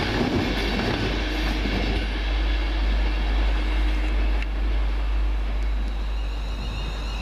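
London Midland Class 350 electric train pulling out of Euston bound for Crewe via Alsager, a loud continuous low rumble with faint rail clatter throughout, with no voices.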